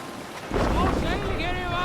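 Sailing ship in Assassin's Creed Valhalla pushes through steady wind and rushing water, a broad continuous wash that swells after a quieter start and holds loud and close.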